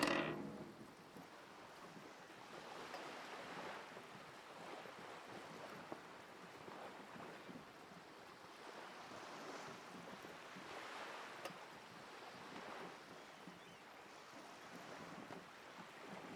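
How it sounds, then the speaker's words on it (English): Wind gusts at sea in the Disco Elysium video game, rising and falling in soft swells with a faint, distant flutter like a sail moving above a boat. Low, steady and ambient, with no voices. "The wind flaps the sail above her."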